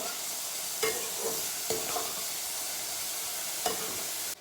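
Capsicum, raisins, carrot and cauliflower, lightly salted, fry in a pan for fried rice, giving a steady close sizzle broken by a few sharp scraping stirs of a spatula.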